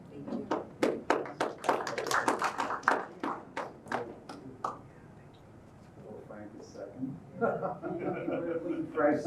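Audience at a poetry reading in a public library gives a burst of clapping, a dense run of sharp claps over the first few seconds that thins out, followed by murmuring voices and a speaker talking.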